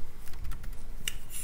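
Fingers typing a command on a computer keyboard, a short burst of several quick key clicks followed by a couple of sharper taps, close and alone.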